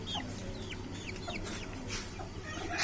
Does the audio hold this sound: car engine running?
no